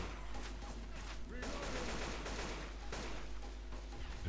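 An AK-47 fires in Left 4 Dead 2, with fast repeated shots that run as continuous bursts under game noise, alongside a faint voice.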